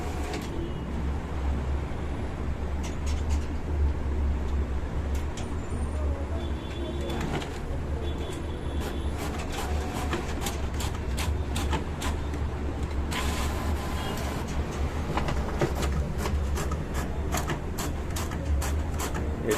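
An Epson L15160 all-in-one printer runs auto duplex scanning and printing, giving a steady mechanical whir with repeated clicking feed strokes and a brief louder burst partway through, close and continuous with no talking.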